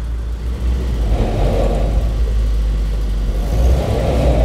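A UAZ Bukhanka van's engine revs hard as it pulls off in first gear onto muddy off-road ground, a loud, close, steady rumble and whir that swells in pitch and strain, with no talk over it.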